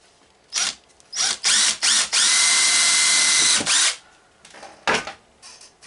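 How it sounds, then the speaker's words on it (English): A power drill bores a hole in a buzz bar for a primer alarm round counter, in several short bursts and then one sustained whining run lasting a couple of seconds, close and loud, with no talk. "you sort of want to try to get it in the middle when you drill the hole"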